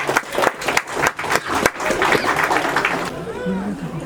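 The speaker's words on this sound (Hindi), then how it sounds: "जोरदार ताली की आशीर्वाद हो जाए बंधुजन" At an engagement ceremony, guests break into loud applause, a dense wash of clapping that holds for a few seconds before fading into murmured crowd noise as a voice speaks over it.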